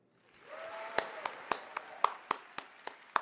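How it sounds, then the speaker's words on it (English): Audience applause for a speaker stepping on stage at the State of Unreal presentation, a spread of claps rising from silence with several sharp, close individual claps standing out over the crowd. "round of applause just for getting on stage like that"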